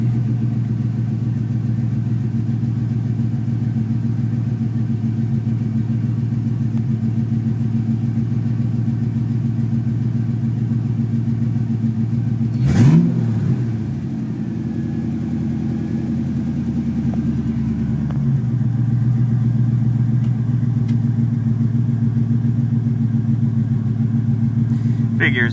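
A Ford Mustang 5.0 V8 with an intermittent stalling-at-idle fault idles steadily at close range, a constant low rumble with one brief bump in the middle.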